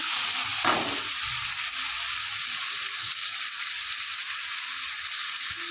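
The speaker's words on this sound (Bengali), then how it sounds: "ডাটা দিয়ে, ডিম দিয়ে, আলু দিয়ে মাছটা করছি, বাটা মাছ দিয়ে" Bata fish cooks in a pan with drumsticks, egg and potato, giving a steady, moderately quiet hiss of frying with a brief clatter near the start.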